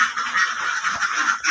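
Jinding laying ducks on a duck farm give a dense, continuous chorus of loud honking quacks, close and unbroken throughout.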